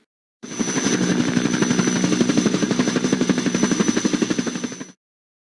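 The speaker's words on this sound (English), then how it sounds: "Helicopter." A helicopter's rotor beats in a fast, steady chopping thud, loud and close, holding at a constant level for about four and a half seconds before cutting off abruptly.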